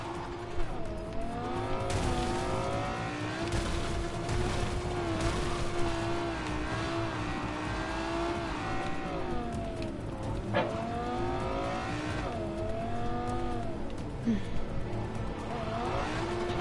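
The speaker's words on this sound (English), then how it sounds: "Just crashing in the car." Car racing and crashing in the video game Cyberpunk: a continuous revving engine with shifting pitch, squealing tires and a few impact thumps, loud and close throughout without any talking.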